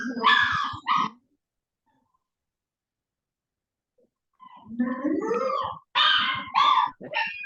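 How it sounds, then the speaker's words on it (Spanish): A small dog gives several short, high yips and whimpers, close and fairly loud, in two bursts separated by a few seconds of silence. "Parece que a tu perrito le pasó algo."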